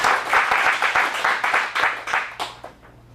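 An audience at an adult dramatic acting showcase claps loudly and close, a dense burst of applause that thins out and fades over about three seconds.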